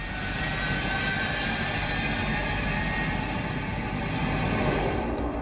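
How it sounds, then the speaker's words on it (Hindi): A C-17 Globemaster transport plane takes off from a runway in Afghanistan, with a steady, loud, broadband jet-engine roar that fills the whole stretch without letup. "विमान उड़ान भरने के लिए टेक ऑफ कर रहा है"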